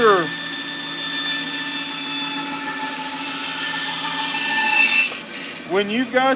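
A bandsaw cuts down a carved wood sculpture with a steady, loud, droning rasp. The cut eases off near the end and a voice speaks briefly at the close.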